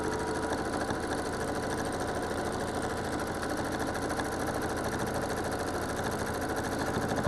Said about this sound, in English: let you enjoy the stitching for a few minutes here